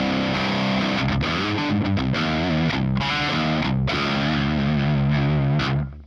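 Electric guitar played through an Orange Rock Reverb amp preset with no pedal, giving a driven, distorted tone; sustained chords and riffs ring continuously and loudly, then cut off at the end.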